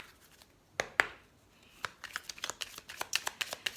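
Oracle cards being shuffled by hand, a few soft slaps early on, then a quick run of crisp riffling flicks close to the microphone with no talking.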